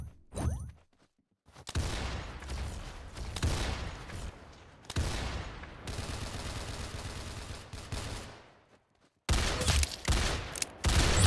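Gunfire in the video game Arsenal on hard mode comes as loud, rapid bursts of shots separated by short silent gaps, with no talking over it.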